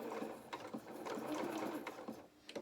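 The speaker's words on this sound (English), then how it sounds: "needle in the work, take out the first pin, and then we're going to start and sew round" A sewing machine stitches steadily around a small teddy bear head, a soft close mechanical hum with light rhythmic needle patter and brief pauses as the fabric is turned.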